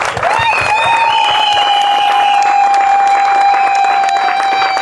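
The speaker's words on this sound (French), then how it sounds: "Applaudissez, s'il vous plaît." Applause and cheering from guests at a Gabonese customary wedding ceremony, a dense wash of clapping with a sustained whistle or ululating tone riding over it, loud and continuous.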